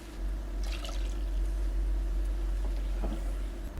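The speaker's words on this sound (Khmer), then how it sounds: "ដល់ពេលឃើញវាសព្វគ្នាហើយយើងដាក់ទឹកចូលទៅបន្តិចទៅហើយយើងកូរម្ដងទៀត" Water pours steadily into a pan of prahok sauce for Khmer noodle soup, a continuous close-up liquid rush and gurgle with a few light clinks, no talk.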